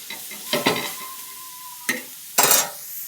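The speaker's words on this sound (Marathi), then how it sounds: "त्यानंतर मग कांदा भाजून घ्यायचा" Onion roasts on a hot iron griddle over a faint sizzle, broken by three or four short, loud scraping bursts of stirring at uneven intervals.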